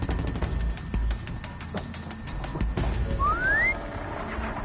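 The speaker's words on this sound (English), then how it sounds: "Oh, I guess you shouldn't whistle twice." Horizon Zero Dawn gameplay with a single short rising whistle from the player character, heard over busy game effects with rapid clicks and thumps and a low background rumble.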